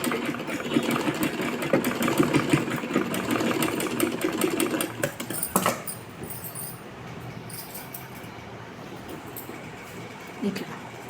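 A sewing machine stitches pleats on a long skirt in a close, rapid mechanical whir that runs for several seconds, then fades into quieter handling noise with a faint voice.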